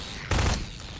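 A single loud gunshot in Half-Life 2 cracks out sharply against a steady game background.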